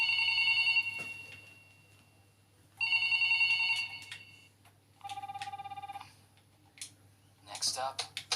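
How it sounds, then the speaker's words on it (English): Synthesized ringing tone of a telephone call in the video game Minecraft, sounding in three separate bursts, the last one higher-pitched, ending in a short chirpy jingle, with a low hum underneath. "I guess all I can do now is call up some places at random and hope."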